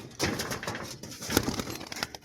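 Red tumbler pigeon being flown for tumbling display, with soft bird sounds, a few sharp wing flaps and pats, and brief rustling bursts at close range.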